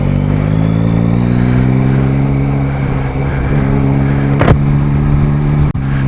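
A new motorcycle being ridden, heard as a loud, steady engine drone with harmonic tones, close and continuous, with a sharp knock or click late on.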